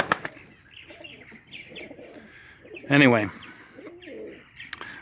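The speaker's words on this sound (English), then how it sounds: "my pigeon loft with some of my pigeons" Pigeons in a loft coo softly, then a sudden burst of wing flapping erupts close by. A voice speaks briefly over the birds.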